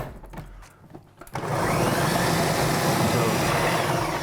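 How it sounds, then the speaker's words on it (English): Hand blender whirring through butter beans and vegetable stock, starting after a second of clattering handling noises, then a loud, steady high-speed motor roar that continues to the end. "And we're really going to blend this until it comes together."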